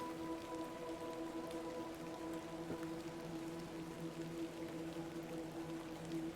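Steady rain falls in the horror point-and-click video game The Excavation of Hob's Barrow, a soft continuous patter over a low sustained musical drone, with no voices.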